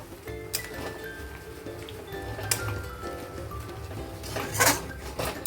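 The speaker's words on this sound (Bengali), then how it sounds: "দেখুন ভালোভাবে মিশিয়ে দিয়েছি" A fried fish head is stirred into a potato and eggplant curry in a pot, with scattered metal clinks and scrapes of the spoon against the pot over a steady low kitchen hum, and no talking.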